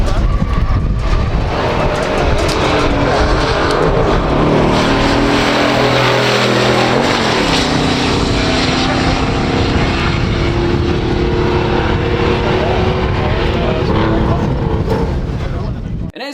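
A 1965 Pontiac GTO launches in a pure stock drag race, its engine roaring loud and rising through the gears with a power shift midway, then continuing at full throttle down the strip.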